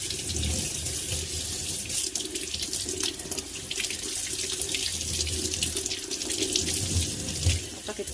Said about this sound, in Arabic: نغسل بقى نغسلها شويه كده